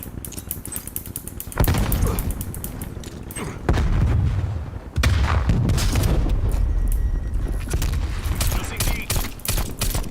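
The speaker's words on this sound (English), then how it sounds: "Throwing grenade." Grenade blasts and gunfire in a multiplayer shooter video game, dense bursts of explosions and rapid shots overlapping for the whole stretch, loud and close with sharp booms near two and five seconds.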